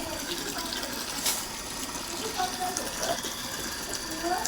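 Polluted drinking water gushes from a tap in a residential ward of Viramgam, a steady close splashing flow with voices talking faintly around it.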